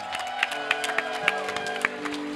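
A live convention audience at Dragon Con applauds, with scattered claps and crowd noise under a steady tonal hum and some voices mixed in.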